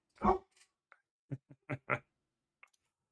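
Dogs barking, a short burst of separate sharp barks with a few fainter yips, spread unevenly across a few seconds in otherwise quiet surroundings.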